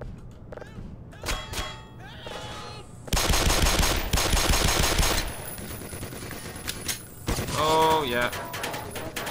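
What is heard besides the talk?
automated machine gun firing in video game Black Mesa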